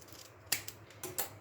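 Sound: scissors cutting a small piece of tape

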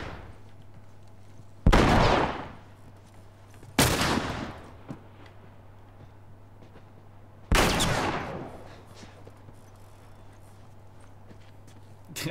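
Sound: gunfire in video game The Last of Us Part 1

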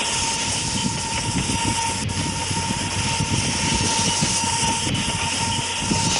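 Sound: train in a video game

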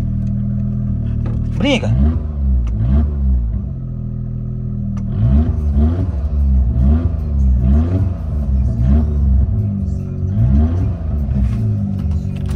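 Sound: small 660cc car engine revving with aftermarket exhaust

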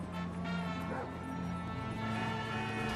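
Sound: dog barking in video game GTA V

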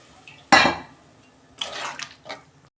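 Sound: small amount of water poured into cooking pan

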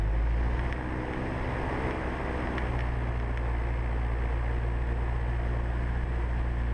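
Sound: Cessna 172 engine run-up at 1800 RPM

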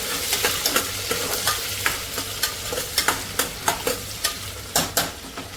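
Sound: onion frying in a pan

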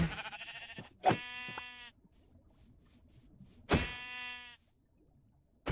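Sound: sheep bleating in Minecraft FTB Pyramid Reborn video game

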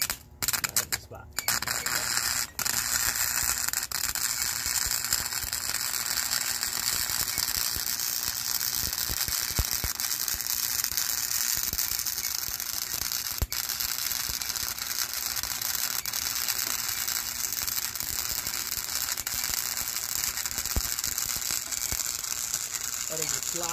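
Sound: MIG welding trailer gate supports with Vivohome MIG welder

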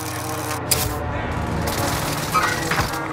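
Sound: airstrike explosions and gunfire in Call of Duty Warzone, video game

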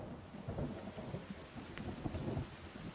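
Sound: thunderstorm in the video game The Forest

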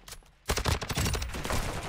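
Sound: gunshots in Modern Warfare 2 video game multiplayer

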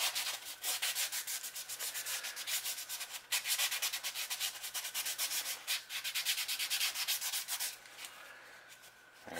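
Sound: light sandpaper sanding a fishing lure body

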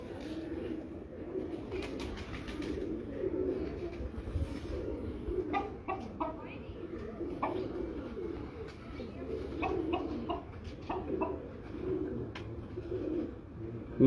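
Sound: Ferozpuri pigeons cooing

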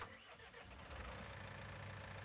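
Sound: tractor engine starting in video game Farming Simulator 19

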